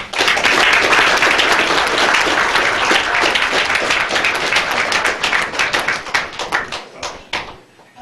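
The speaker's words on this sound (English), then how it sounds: "Let's give a round of applause." A round of applause at a commission meeting, a room of people clapping loudly and close, then thinning into scattered individual claps that fade out toward the end.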